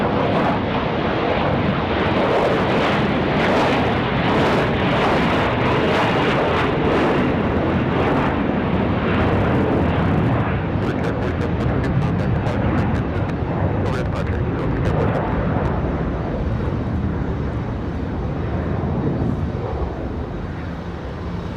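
An Embraer E175 airliner passes at night near RDU airport, a loud, steady jet roar that fills the whole stretch and fades slightly near the end. People talk over it.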